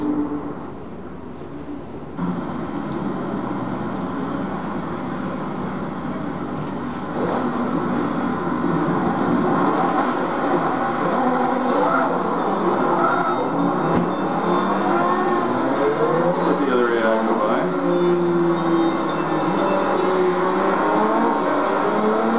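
Race cars in Forza Motorsport 3 starting the Le Mans race: a steady, loud engine drone that swells as the field accelerates, with rising revs layered over one another and no talking.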